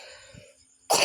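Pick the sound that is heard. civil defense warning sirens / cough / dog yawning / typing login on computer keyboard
cough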